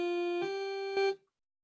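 Synthesizer playing a basic init patch, a plain harmonically rich tone stepping through short sustained notes with brief attacks between them, clear and close, then stopping.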